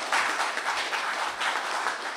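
Applause from a lecture-hall audience at a labor union talk, a dense, even wash of clapping at moderate volume that holds for the whole stretch.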